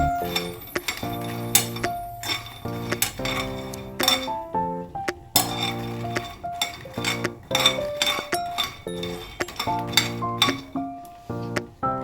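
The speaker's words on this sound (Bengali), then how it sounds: "একটা স্পুনের সাহায্যে এটাকে নাড়াচাড়া করে ড্রাই রোস্ট করে নেব" Metal spoon scraping and clinking against a pan as makhana is stirred during dry roasting, a steady run of close, bright clinks and scrapes throughout with no talking.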